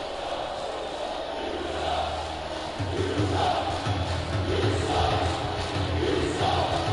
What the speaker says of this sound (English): this crowd, not too receptive to the Jackson Boys